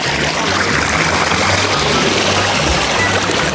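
Water flowing steadily at Jhadeswar temple, a loud, continuous broadband rush close by with faint voices underneath.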